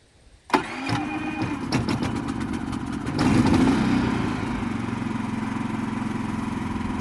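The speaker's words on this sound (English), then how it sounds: "This is my first inverter generator" A Predator 3500 inverter generator cranks and starts, then settles into a steady, fairly quiet hum in economy mode, heard close up.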